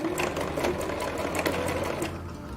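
A sewing machine runs steadily in reverse at the end of a seam on a cotton makeup-remover pad, a continuous close mechanical whir with fast stitching pulses and no talk.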